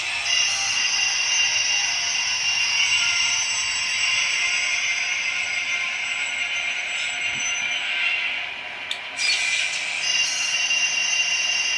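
A model train locomotive under DCC hand-held throttle control runs steadily, giving a continuous high whirring and rattling drone that stays level, with a brief dip and a small click near the end.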